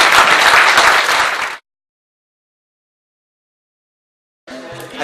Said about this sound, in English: Big round of applause to everyone in the group.